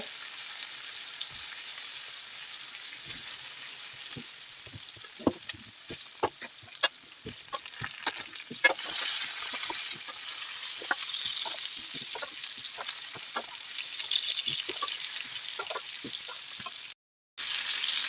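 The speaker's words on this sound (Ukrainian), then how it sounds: "потихеньку сюди додаємо картоплю" Young potatoes fry in a pan with fresh pork, giving a continuous bright sizzle broken by scattered sharp taps and scrapes of stirring. The sound cuts out briefly near the end.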